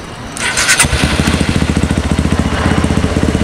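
A motorcycle fitted with a Juken 5 ECU cranks with a brief starter whir, then fires and settles into a steady, close, throbbing idle with a fast pulsing beat.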